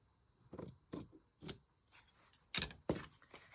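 Scissors cut through lace for a book-page pocket, several crisp separate snips spaced irregularly, quiet and close in an otherwise still room.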